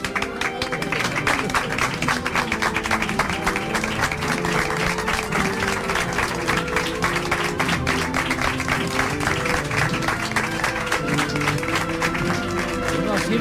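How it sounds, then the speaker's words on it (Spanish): Audience applause at a Lenten Holy Week brotherhood radio broadcast in Spain: dense, steady clapping runs throughout with tonal music and murmuring voices underneath. "Un aplauso, gracias"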